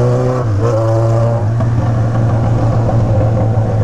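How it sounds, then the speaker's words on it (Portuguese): A cold Yamaha XJ6 motorcycle engine with a loud aftermarket exhaust revs steadily up close, its low harmonic drone wavering and stumbling with uneven sputters throughout. "Moto tá um pouco fria ainda, certo? Então tá dando as engasopadas."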